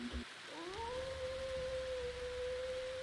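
A long, sustained howl rises and then holds steady at one pitch, heard during a Curse of Strahd tabletop role-play session, clear and prominent over a low background hiss with no talking.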